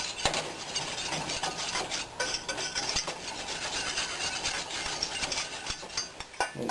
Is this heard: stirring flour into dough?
yes